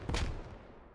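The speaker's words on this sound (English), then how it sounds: "Grenade out." A single grenade blast in the military shooter game SquadOps hits with a sharp, heavy boom that rolls off into a fading rumble within a second.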